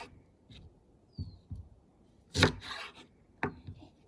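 A knife trims the dry sides off rhubarb on a board, giving a few sharp, close cutting and scraping strokes, with one louder crisp slice among quieter taps.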